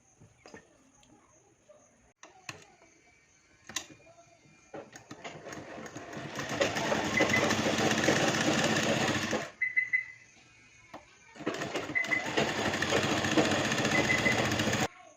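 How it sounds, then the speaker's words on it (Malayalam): A sewing machine stitches around three folded edges of fabric in two long, fast rattling runs separated by a short pause, fairly close and unaccompanied by talk. "അപ്പോൾ നമുക്ക് ഇതിൻ്റെ ചുറ്റും ഒന്ന് മടക്കി തയ്ച്ചു കൊടുക്കാം. ഈ ഒരു 3 വശവും ഒന്ന് തയ്ച്ചു കൊടുക്കാം"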